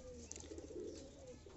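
A young pigeon of a fancy breed, kept in a cage while being trained to learn its home, gives a faint, brief, low coo, close by but very quiet.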